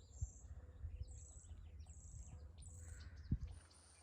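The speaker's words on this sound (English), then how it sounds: "Do you hear all the birds?" Birds chirp and call outdoors in a garden, high faint tweets scattered over a low rumbling background with occasional thumps.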